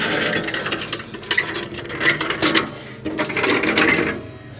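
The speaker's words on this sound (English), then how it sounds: "All right, skid plate should come right out." A skid plate is pulled from underneath a screen-used Knight Rider KITT car, with close scraping, rattling and clunking metal noises in uneven bursts and no talking.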